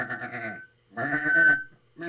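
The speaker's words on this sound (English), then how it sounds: "And you know what's around the Stonehenge in the fields? A bunch of sheep." Sheep bleating in open fields near Stonehenge, two long wavering bleats with a third starting at the end, close and fairly loud with no talk over them.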